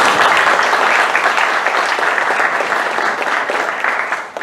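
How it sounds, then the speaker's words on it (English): A room of attendees at a county council candidate forum gives a steady round of applause, dense clapping at even loudness throughout the short stretch. "let's give him a round of applause also"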